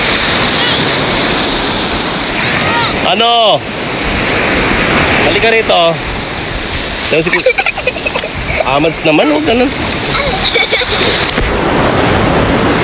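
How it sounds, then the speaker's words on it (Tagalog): Loud surf crashes and rushes continuously with heavy wind buffeting the microphone, while people talk and call out over the roar of the waves. "Oh, lakas ang alon."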